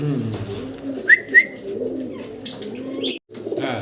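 Soft homer pigeon coos and a couple of brief chirpy calls over a low murmuring background, fairly close, with a short silent gap near the end.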